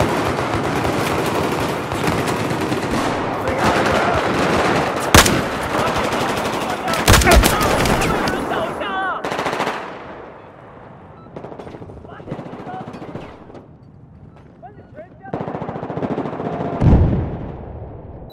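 Battlefield 4 team deathmatch gunfire: loud, dense bursts of rapid automatic fire with sharp single shots, easing into sparser, quieter shots before a final heavy burst, with faint voices in the background.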